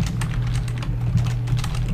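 Rapid typing on a computer keyboard during a StarCraft game, a quick run of soft, close clicks over a steady low hum, with no talk.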